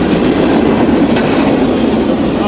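A freight train with graffiti-covered cars rolls past close by in Gulfport, Mississippi, a loud steady rumble with faint clickety-clack of wheels and no voices.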